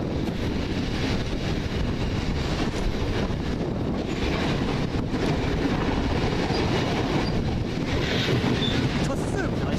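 Class 66 diesel locomotive hauling a coal train past on a very windy day, a steady loud rumble of wagons rolling by for the whole stretch, with wind buffeting throughout.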